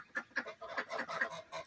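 Geese and ducks in a backyard flock honk and call in a rapid, overlapping run of short cries, fairly faint and at a moderate distance.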